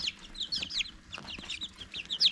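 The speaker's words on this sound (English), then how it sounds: "It's Kathleen right there, the Easter Egger Bantam" Bantam chickens, including Easter Egger, Cochin and silkie hens, cluck in short, repeated high calls close by, chattering over one another while gathered around treats.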